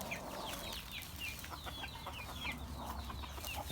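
Ispenç chickens cluck and chatter in a quiet coop, a string of short, soft clucks and calls close by without talk.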